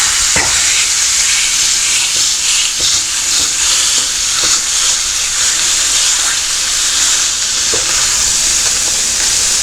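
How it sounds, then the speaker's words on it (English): A smashed burger patty sizzles on a low griddle, a loud, constant hissing fry with occasional scrapes and taps of a spatula, close by and without any voices. "I've got the griddle on low, and that way I can keep the first patty warm while the second one cooks."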